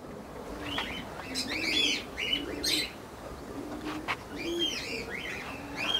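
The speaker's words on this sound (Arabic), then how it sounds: "شوف شوف الحمام كيتشلبخ" A flock of pigeons released in the morning, with repeated chirps, coos and bursts of flapping wings rising and falling at close range, with no talking.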